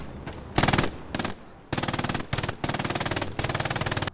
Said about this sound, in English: It was a perfect location for my machine gun